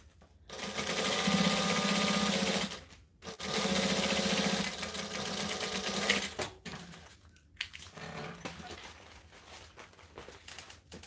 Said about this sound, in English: I forgot the top stitch because I'm chatting.